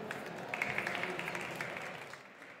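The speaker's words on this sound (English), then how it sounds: "Please help me welcome him to the stage with a big round of applause." A conference audience applauding, a dense steady patter of many hands clapping that fills the room for a few seconds and then begins to fade toward the end.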